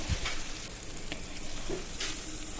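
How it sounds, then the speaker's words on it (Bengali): Fried potatoes and pointed gourd (patol) being stirred together in a pan, a close, steady sizzle with a few soft spoon scrapes and knocks. "এরপরে সব কিছু ভালো করে মিশিয়ে নেব"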